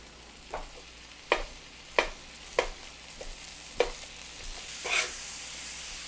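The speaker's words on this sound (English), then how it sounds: "now we chop it up." Beef is chopped on a hot, sizzling griddle for a chopped cheese sandwich, a soft fry hiss under a series of sharp metal spatula strikes, about six clear taps spaced roughly a second apart, close and alone.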